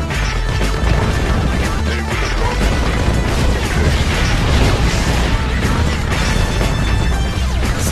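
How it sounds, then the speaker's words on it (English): Nuclear missile launch and detonation in Red Alert 2, a loud, continuous roaring blast with crashing, rumbling debris filling the whole stretch, dense and overwhelming. "Warning, nuclear missile launched."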